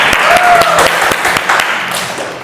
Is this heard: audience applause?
yes